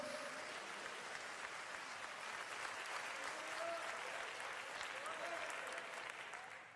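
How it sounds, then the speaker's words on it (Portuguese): A church congregation at a Sunday service claps in praise, a broad, continuous wash of applause from many hands, fairly faint and distant, with some voices rising faintly within it. "Você quer aplaudir ao Senhor?"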